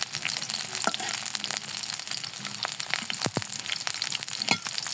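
Onion frying in a little oil in a kadai to make beresta: a steady close crackling sizzle throughout, with a few brief sharper pops and scrapes.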